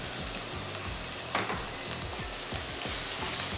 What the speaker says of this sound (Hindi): सबसे पहले ऑयल डालेंगे, अदरक लहसुन की पेस्ट डालेंगे, इसको हम 1 मिनट के लिए सौते कर लेते हैं